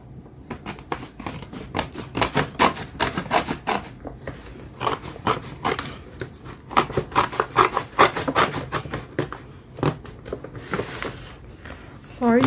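Scissors cutting and rubbing through Hobonichi 2020 planner packaging, a run of close, sharp snips and crinkling scrapes in quick irregular bursts, with a few brief vocal sounds mixed in.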